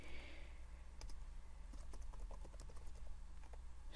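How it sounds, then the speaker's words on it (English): Typing on a laptop keyboard: light, uneven clicks pattering over a steady background hum, fairly close and moderately quiet, with no talking. "Not used to typing on my laptop."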